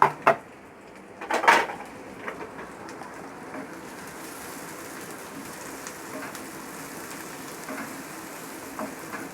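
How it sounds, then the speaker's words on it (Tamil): Sliced onions drop into hot oil in a pan for a prawn curry. A couple of clattering knocks come first, then a steady, close, broadband sizzle runs on. "இப்போ ஆயில் சூடாயிருச்சு, ஆனியன் போட்டுடலாம்."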